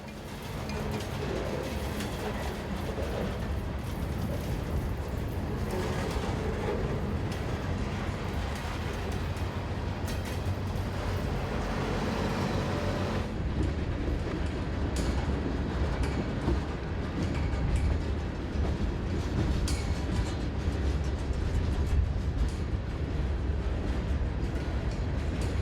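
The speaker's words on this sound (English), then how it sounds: "Coal empties are returning west, headed by an ES44AH leading an AC44CW." A CSX coal empties train returning west on the Cumberland Subdivision in Maryland, led by an ES44AH and an AC44CW, rolls past with a sustained loud rumble and rail noise that shifts in tone midway, no talk.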